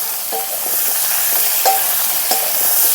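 Potatoes and pointed gourd fry in a pan with a loud, steady sizzle. A utensil stirs through the pieces in a few scraping strokes, close up.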